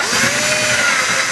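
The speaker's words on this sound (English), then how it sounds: "And I'm going to drill down until I hit that" A power drill with a graduated step bit boring into the metal tailpiece of a cigar box guitar, a loud continuous whine close to the microphone, running steadily throughout.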